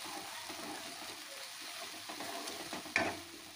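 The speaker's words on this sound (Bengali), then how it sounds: "দিয়ে বেশ এখন কিছুক্ষণ এটা কষাতে থাকবো যতক্ষণ না এর থেকে তেল রিলিজ হওয়া শুরু" Mustard, poppy and sesame seed paste fries in a pan for crunchy spiced okra, a steady close sizzle broken by scraping stirs and one sharp clack near the end, with no voices.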